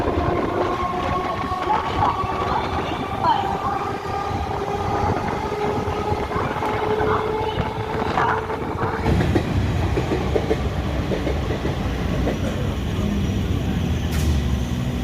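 A local train on the Howrah–Katwa line runs steadily, with continuous rumble, rattling carriages and rhythmic clickety-clack, heard from inside, some faint voices mixed into the noise.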